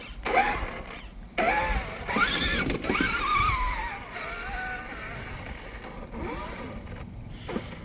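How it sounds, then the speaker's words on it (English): A car driving, its engine droning and rising in pitch as it accelerates, with bursts of louder road and engine noise and a brief near-silent gap early on. "As I roll it over in the first like 10 seconds of driving it"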